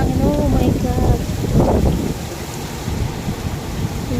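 Heavy rain pours and strong wind gusts during a fierce storm in Qatar, a loud, dense roar with buffeting against the microphone, while a voice speaks briefly over it at the start.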